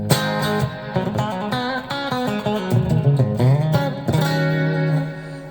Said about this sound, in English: let's go back into the full-blown humbucker